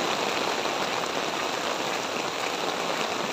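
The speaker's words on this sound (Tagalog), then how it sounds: "Lakas ng ulan guys," Heavy, steady rain pouring down, a loud unbroken hiss of drops hitting surfaces with no pauses or voices.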